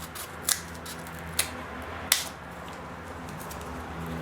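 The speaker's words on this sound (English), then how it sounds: "Now what I'm going to do is take my scissors and cut to the center" Scissors snip into cardboard toward the center of a craft piece, three distinct sharp cuts spaced about a second apart, close and fairly quiet, with a faint background hum and no talking.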